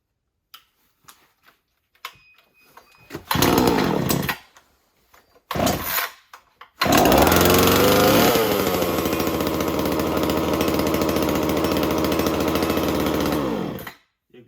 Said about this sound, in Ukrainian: бензопила завелась добре